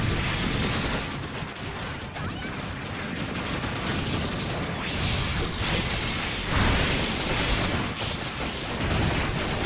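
Rapid beam Gatling gun fire from Gundam Breaker 3, a dense, continuous barrage of energy shots with whooshing bursts and mechanical clatter, loud and sustained throughout without speech.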